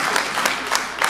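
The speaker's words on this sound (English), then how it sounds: "Can we give him a clap? Let's give him a hand." A church audience applauds, a dense burst of clapping from many hands filling the room at a steady level throughout.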